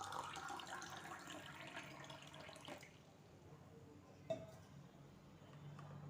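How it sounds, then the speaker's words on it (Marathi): Cold water from a clay matka pot is poured into raw mango pulp for panha. A soft, steady, faint pour runs for about three seconds, then stops, followed by a single small splash. "यामध्ये आपण माठातलं थंड पाणी घालून घ्यायचं आहे"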